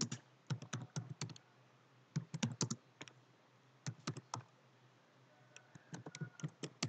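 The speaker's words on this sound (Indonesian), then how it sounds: "Misalkan kita di sini mengetik" Bursts of quick key taps on a computer keyboard while typing in Microsoft Word 2010, coming in clusters with short pauses between them, close and crisp against a quiet room.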